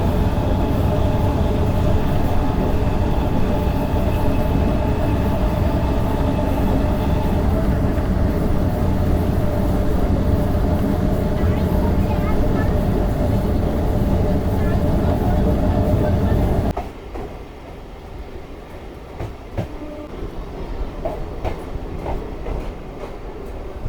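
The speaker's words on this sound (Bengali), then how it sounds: "মানে ট্রেনের সিগন্যাল দিয়ে দিয়েছে ট্রেন ছাড়বে।" A Barddhaman–Rampurhat MEMU passenger train pulls out of a station with a loud, steady rumble and rattle for about seventeen seconds, then gives way to quieter, lower ambience with faint sounds around.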